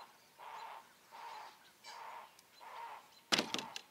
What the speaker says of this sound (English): Dag blasted bird.